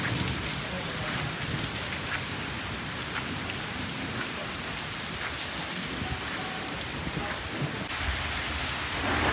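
Rain pours steadily during a thunderstorm, a dense hiss of drops striking surfaces nearby, constant and fairly loud for the whole stretch, with no clear thunderclap standing out.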